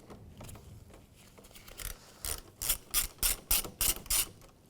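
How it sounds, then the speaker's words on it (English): A ratchet with a 10mm socket loosens the negative battery terminal on a 2011-2016 Hyundai Elantra, giving a quick run of about seven sharp, close clicking strokes after a few faint ones. "I'm going to do that with a 10mm socket."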